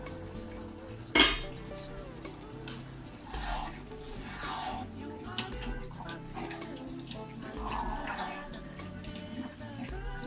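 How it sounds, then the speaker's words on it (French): Water is poured into pans that held beef meatballs in bolognese sauce to rinse them in a home kitchen. Metal pots and utensils clatter and scrape under running, sloshing water, with one sharp clank near the start. "J'ajoute un peu d'eau pour rincer juste les casseroles."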